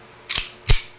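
WE Airsoft 4.3 Hi-Kappa 2011 Allosaurus airsoft pistol fired on semi-auto, two sharp, close cracks about half a second apart against a quiet background.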